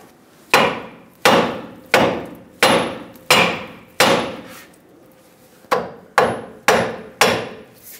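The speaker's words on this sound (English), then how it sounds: "take a hammer, tap the knuckle to separate the two." Nine sharp hammer strikes ring out on the steel steering knuckle of a 2007-2014 Chevrolet Silverado 2500 HD, loud and close, in an even rhythm with a brief pause before the last four blows, no talk.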